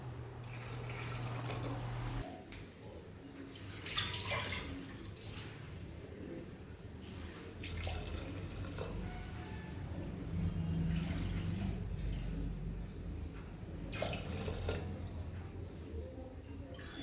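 Water is poured into khichdi in a pressure cooker while making Kathiyawadi masala khichdi, a soft, steady splashing and trickling with faint clinks of the vessel heard close up throughout.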